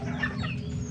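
Shamo gamefowl in a breeding yard, a brief close cluck or two over a low steady background hum, faint and short.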